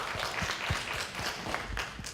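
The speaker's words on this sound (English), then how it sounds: "a hand of applause to Henry for helping" An audience applauding for a dental patient named Henry, a steady patter of many hands clapping at moderate volume throughout.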